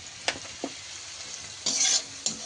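Pointed gourd and shrimp with chili powder and a little sugar stir-fried in a pan, with a soft continuous sizzle broken by sharp spatula scrapes and a louder burst of hissing near the end.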